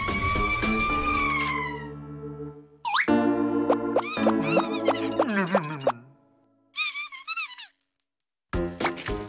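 Cartoonish sound effects from the Pocoyo cartoon: a descending whistle, bouncy wobbling boings, then a short warbling ambulance-siren wail, each burst separated by brief silences.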